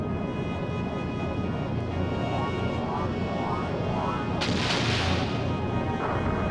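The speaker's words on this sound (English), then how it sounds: "as long as we keep our cannon fire coming constantly, then we'll eventually get him down." Cannon fire and explosions rumble through an airship battle in the video game Skies of Arcadia, a dense continuous barrage with a sharper blast burst midway, all over game music.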